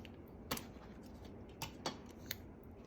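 Several sharp, brief snips and clicks from cutting a piece of Scotch tape, four distinct quiet ticks at close range over a faint background hiss.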